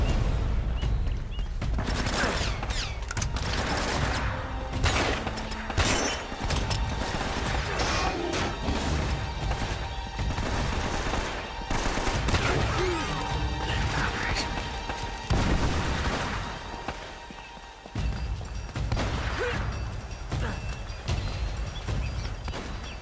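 Heavy mounted-gun fire in Uncharted: Drake's Fortune, loud sustained bursts with crashing impacts running nearly nonstop, briefly dipping near the end, with faint voices mixed in.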